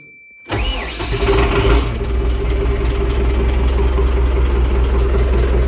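An MTZ tractor engine cranks and fires with freshly changed oil and filters, catching quickly after a brief starter whine and settling into a loud, steady, rumbling idle close by.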